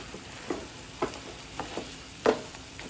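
Chicken coated in masala for Mangalore-style chicken sukka, stirred in a pan with a few distinct scraping strokes about half a second apart over a faint background sizzle, close and fairly quiet.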